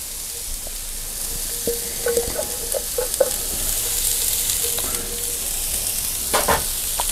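Onions and mushrooms frying on a gas grill plancha, a steady close sizzle with scattered sharp crackles and spatula scrapes throughout, a few louder clinks near the end, no speech.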